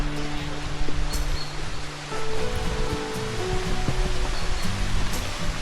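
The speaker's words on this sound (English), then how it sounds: "A waterfall." A waterfall on a Lake District hike near Scafell Pike: a broad, continuous rush of falling water, fairly close and steady, with faint rustling and a few low background sounds mixed in.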